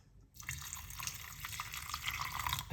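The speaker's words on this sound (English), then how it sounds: "just pour some water on it" Water is poured onto tea ingredients in a container, a steady close splashing and trickling flow lasting a few seconds after a brief quiet start, with no talk.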